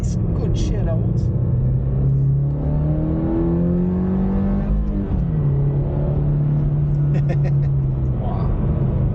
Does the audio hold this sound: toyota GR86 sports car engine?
yes